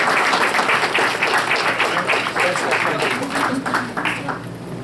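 An audience at a board of education meeting claps in a sustained, dense round of applause lasting the whole few seconds, fairly loud and close.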